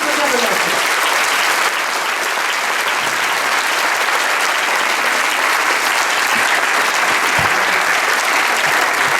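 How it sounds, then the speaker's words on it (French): A large audience claps steadily and loudly for Pope Benedict XVI at a Pentecost 2012 gathering, a dense, sustained wash of applause with crowd noise throughout. "Moi, je vous propose d'applaudir Benoît XVI."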